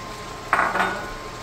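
Mushrooms and garlic chips are tipped into a metal pan for squid salpicao, giving a short close clatter and scrape of about half a second against a steady background hum.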